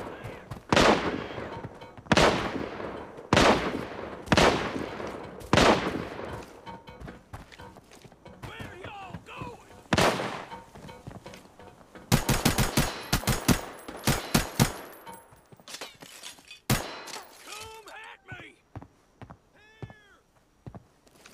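Gunfire in the mobile shooter Arena Breakout comes in sharp, spaced single shots at first, then a dense rapid burst. Quieter rustling and movement sounds fill the gaps between them.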